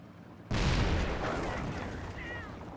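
Gunfire hitting an M8 armored car in the real-time strategy game Company of Heroes, a sudden loud burst of shots and impacts that stays dense and rumbling as the battle continues under a commentator's voice.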